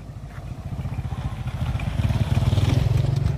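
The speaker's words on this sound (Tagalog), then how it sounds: "Nadadaanan din pala ito ng motor." A motorcycle engine putters steadily nearby as it crosses a hanging bridge, its low rumble growing slightly louder toward the end, with faint rattling over it.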